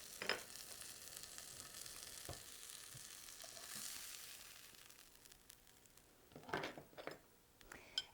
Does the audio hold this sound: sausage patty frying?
yes